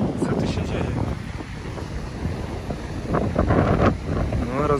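A small boat sits on open water off Rhodes, Greece, with strong wind buffeting the microphone and waves washing around it while people talk nearby.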